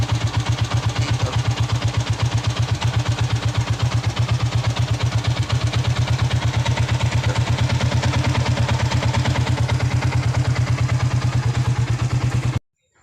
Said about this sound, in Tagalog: Adjust na lang tayo sa idling dito guys, oh.